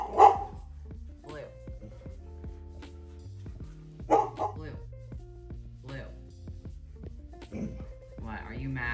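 Pet dogs bark in short, sharp bursts indoors at intervals, mixed in with a person talking to them.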